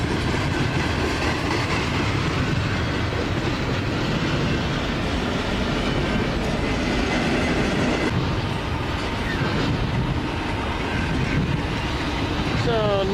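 A normal-length freight train rolls past on the Montana Rail Link line at Logan, Montana, as a continuous loud rumble with rhythmic wheel clatter and a brief high squeal near the end, with a voice talking over it.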